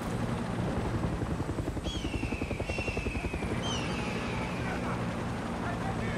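Enemy helicopters in a video game: a loud, close rotor thrum beats steadily throughout, with a few whistling, whining tones sliding across the middle of the clip.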